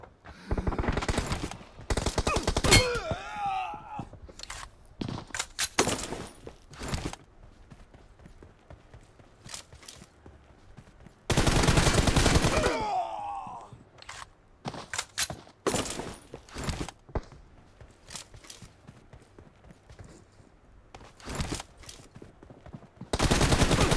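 Gunfire in a shooter video game, loud sharp bursts of automatic fire alternating with single cracking shots and sustained volleys, separated by quieter gaps.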